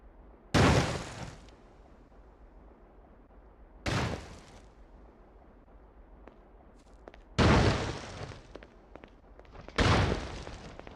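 Four grenade launcher rounds explode on impact in Ghost Recon, sharp loud blasts with short decaying tails spaced a few seconds apart over a quiet background hum.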